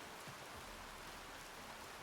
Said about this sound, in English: we got rain